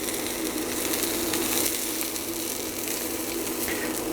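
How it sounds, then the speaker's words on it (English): A breakfast wrap sizzles and crackles steadily in a hot pan, a constant close hiss with no voices. "this sort of sizzle you can hear, that's about what you want"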